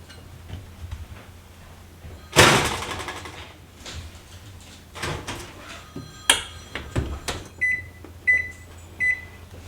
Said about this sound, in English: Into the oven it goes.